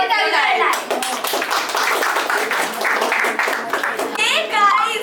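An audience at a children's performance showcase claps to welcome the next act, brisk and fairly close, with children's voices and chatter mixed in at the start and end.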